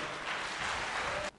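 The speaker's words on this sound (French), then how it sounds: "Ça s'applaudit s'il vous plaît." Applause from an audience at a scholarship presentation during a touring finale event, a dense steady clapping for just over a second before cutting off abruptly.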